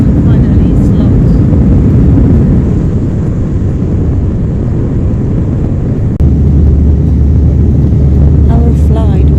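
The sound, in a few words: airplane flight to Porto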